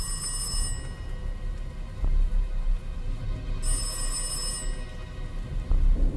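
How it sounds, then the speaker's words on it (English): A telephone rings in a video game, two bright electronic ring bursts separated by a pause, over a dense low rumbling background like rain. "that phone's ringing and I gotta answer it"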